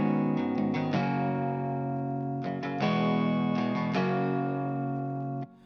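Processed electric guitar layer, an Electric Vintage sound with Cymatics Origin effects, plays a repeating chord pattern for a chill lofi beat, loud and sustained with rhythmic restrikes and no talk.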